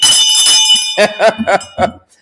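A gifted hand bell rings out brightly for about a second, close and loud, and a voice follows right after.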